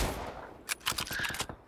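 A few sharp gunshot bursts from PUBG Mobile, with a Mosin Nagant rifle named as the weapon, crack out in a quick irregular cluster over quiet game ambience.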